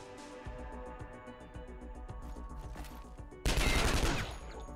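In Skyshine's Bedlam, a loud shotgun blast bursts in near the end, broad and booming over a ticking, musical game backdrop with lighter gunfire tones earlier.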